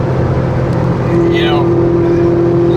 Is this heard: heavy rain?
no